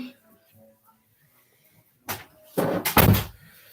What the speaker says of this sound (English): Hey, Juju, close my door for me.